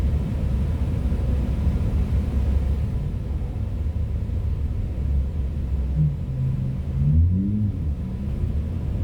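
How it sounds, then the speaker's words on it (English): Steady low road rumble of backed-up highway traffic heard from inside a moving car in Kansas or Colorado, a continuous droning wash with no break. "traffic is backed up the yin-yang"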